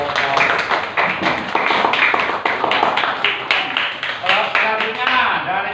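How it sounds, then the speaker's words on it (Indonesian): Classroom applause for a student group, a cluster of students clapping rhythmically and close by, with voices mixed in. "Beri tepuk tangan untuk kelompok."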